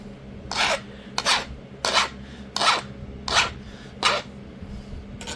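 Steady abrading strokes sharpen the edge of a stone being flintknapped into a tomahawk slab preform, about seven rhythmic rasping scrapes, close and clear over a low background hum, no voices.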